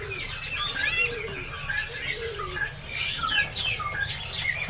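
A crowd of caged robo-robo birds at Pramuka bird market chirps continuously, overlapping bright twittering calls with occasional low pigeon coos and wing flutters amid a busy market hum.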